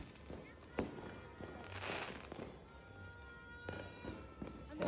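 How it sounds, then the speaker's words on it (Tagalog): Fireworks going off during a New Year's Eve celebration, with several sharp bangs and crackling bursts at irregular intervals over a noisy outdoor background of distant popping and people talking. "Ilang oras din silang nagpapaputok ng mga fireworks na ganyan."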